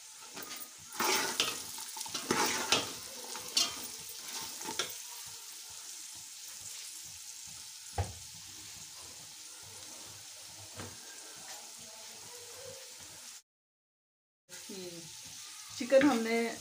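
Carrots and capsicum sizzle lightly in a pan for a macaroni dish, with louder stirring and scraping bursts early on, a soft steady fry afterward, and a short gap of silence near the end.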